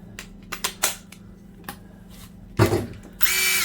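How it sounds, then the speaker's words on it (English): A DeWalt 12V Max brushless sub-compact high-torque 1/2-inch impact wrench with a stubby socket drives a bolt into a block of wood, heard as a few short motor bursts and clicks, then a loud, steady hammering whir near the end. "Driving in my favorite bolt and my favorite block of wood."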